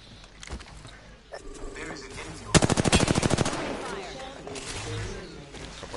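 Rapid burst of automatic gunfire in the battle royale shooter Apex Legends, a loud run of about a dozen evenly spaced shots at mid-clip over background game noise and faint voices.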